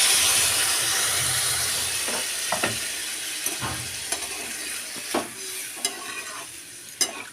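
Water poured into a pan of frying cauliflower and other vegetables for a duck egg curry, giving a steady close steaming hiss with several sharp sizzling bursts and stirring scrapes.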